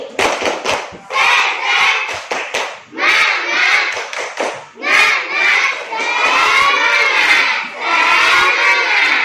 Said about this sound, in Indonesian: Tepuk semangat 2 kali